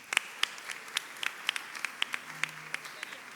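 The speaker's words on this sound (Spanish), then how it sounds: "un aplauso para las chicas" Scattered applause from an audience at a university journalism event, welcoming the speakers, with distinct individual claps popping out over a softer clapping bed, fairly close and moderate in volume.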